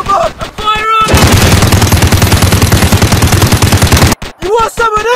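Rapid automatic gunfire in a police highway car chase video game, a dense continuous burst lasting several seconds, loud and close, framed by short bursts of game voice lines before and after.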